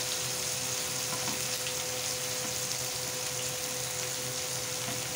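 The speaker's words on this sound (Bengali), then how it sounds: "পেঁয়াজ দিয়ে দিচ্ছি। পেঁয়াজ কটা একটু লাল করে ভেজে নেব।" Onions fry in a pan for a masala garlic bhuna curry, giving a dense, even sizzle that holds steady throughout, with no voices.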